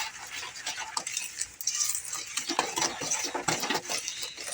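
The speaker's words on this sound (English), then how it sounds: "We'll give that another stir." Food is stirred in a bowl with a utensil, giving close, continuous scraping and clinking strokes in an uneven rhythm, fairly loud with no voices.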